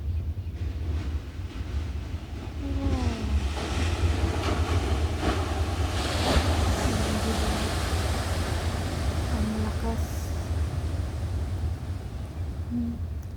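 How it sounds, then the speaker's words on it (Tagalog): Steady roar of surf and crashing waves with gusting wind buffeting the microphone, continuous and fairly loud throughout. "Ang lalakas ng alon din."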